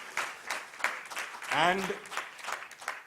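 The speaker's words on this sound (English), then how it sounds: "Big round of applause, big round of applause." An audience applauding, steady clapping from a room of people at moderate distance, with a voice briefly speaking over it in the middle.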